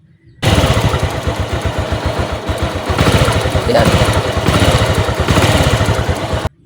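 A loud, rapid mechanical rattle from the manual clutch of an old Honda XRM 125 motorcycle engine, steady and close, with a brief spoken word near the end.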